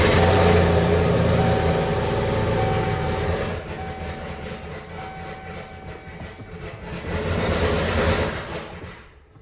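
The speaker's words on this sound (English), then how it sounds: "No manifold on, but she's gonna start, baby." A junkyard LS V8 with a turbo but no exhaust manifold or downpipe, running loud and raw with a steady rough roar that dips slightly midway, swells again, then cuts off.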